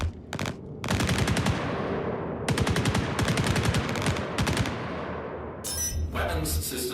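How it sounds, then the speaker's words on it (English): Rapid bursts of automatic gunfire from a firefight between ships or NPCs in the space game Star Citizen, loud and dense, several sustained volleys separated by short gaps, ending in harsher noisy crackle. "Now they're shooting at each other."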